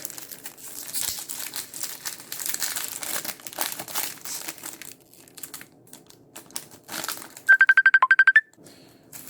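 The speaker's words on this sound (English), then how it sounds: "Alright, sorry, phone rang." A phone ringtone bursts out loud and near as a short rapid trilling pattern, following several seconds of crinkling packaging as a pack of crackers from a 2008 French freeze-dried commando ration is opened.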